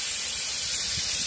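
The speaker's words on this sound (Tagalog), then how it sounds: "So, kapag nag-spray ng evaporator, ilipat natin." Water sprayed onto the dirty evaporator of an LG window-type inverter air conditioner gives a short, steady, close hiss with no talk.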